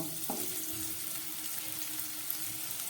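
Potato and pumpkin pieces fry in a pan with a steady, close sizzle, and a brief stir clinks in near the start.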